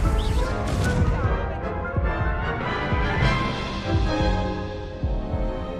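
Confringo blasting spell explosions crackle and boom in Hogwarts Legacy amid dense, continuous combat noise, with repeated impacts layered over a busy game soundtrack.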